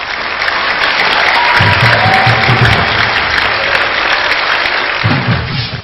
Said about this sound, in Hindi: खूब जोरदार तालियों से उनका स्वागत किया जाए